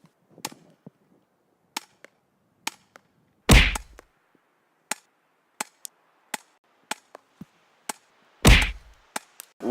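Airsoft guns fire in a backyard challenge as pellets smack a target, a string of sharp, irregular cracks and thwacks with two heavier, booming hits mixed in, loud and close.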